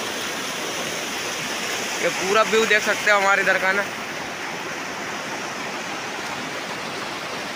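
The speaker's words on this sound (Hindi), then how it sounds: "आवाज़ बहुत तेज कर रहा है पानी" Loud rushing river water roars as a steady broadband wash throughout, close and constant, with someone talking over it for a couple of seconds.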